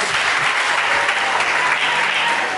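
A crowd applauds at a gospel music event, a loud, unbroken wash of clapping from many hands that holds steady throughout.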